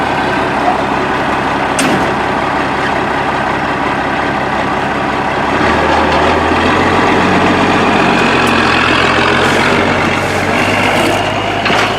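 A Cummins diesel work truck engine revs up from idle, its deep rumble rising and holding at a higher pitch, loud and close with no voices.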